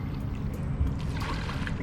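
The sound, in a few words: river water flowing while rafting in Ocho Rios, Jamaica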